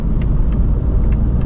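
A Ford Mustang EcoBoost S650 pulls onto a highway, its engine and road rumble a steady, loud low drone with faint higher tire and wind noise over the short stretch.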